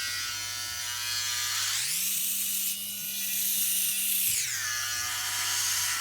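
Philips OneBlade electric razor buzzing steadily while trimming hair, its motor pitch rising as the blade presses against the hair, holding for a couple of seconds, then dropping back to an idle hum, close and clear.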